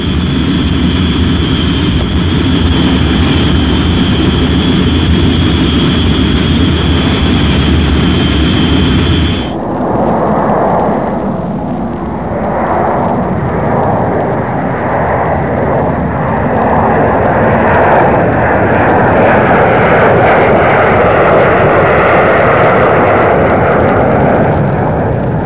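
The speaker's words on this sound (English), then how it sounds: "The bombers taxied out that first morning" Bomber aircraft engines roar loud and close while taxiing, a steady droning whine with a high tone that gives way after ten seconds to a broader, rougher rumbling roar that continues throughout.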